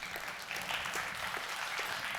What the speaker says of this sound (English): Could you give them a round of applause, please?